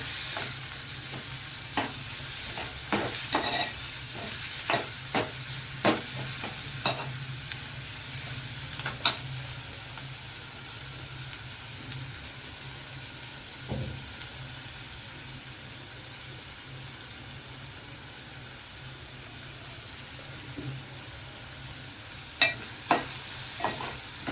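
Tomatoes sautéing in a pan for pav bhaji, a steady broad frying sizzle with repeated sharp scrapes and clicks of a spoon stirring, close and moderately loud, no voices.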